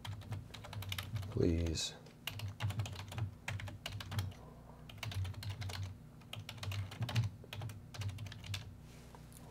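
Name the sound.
typing on a computer keyboard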